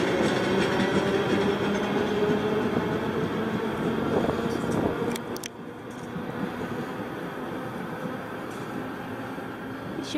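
Train wheels clattering over rails in a steady rolling rhythm, a close continuous rumble with periodic clicks that drops slightly in loudness midway, no talk.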